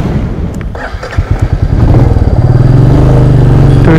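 A Royal Enfield Meteor 350 motorcycle engine idles with a loose rhythmic thumping, then revs up and settles into a louder, steady running drone close by.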